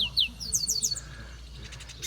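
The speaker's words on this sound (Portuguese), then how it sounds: "E aqui tem um passarinho cantando" Small bird singing outdoors near water: a quick series of high, bright chirps and trills, fairly close and clear over a low background hum.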